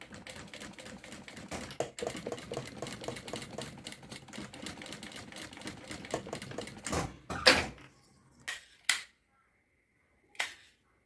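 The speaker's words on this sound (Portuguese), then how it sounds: "Já vou costurar aqui de uma vez, que aí a alça fica prontinha" A sewing machine stitches a handle for a fabric bag in quick, steady runs of clicking stitches. The runs stop and start, and a few sharp isolated taps follow near the end.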